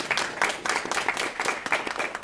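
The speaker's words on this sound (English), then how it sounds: "A big round of applause for New Beginnings Family Daycare." An audience claps for a family daycare at a career and technical education signing day, moderately loud and continuous, with rhythmic bursts of many hands and no talk over it.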